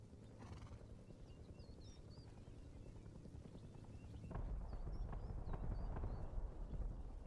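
Horse hooves clip-clopping in the video game Rust, a steady run of hoofbeats that grows louder and closer partway through, with occasional faint whinny-like calls above it.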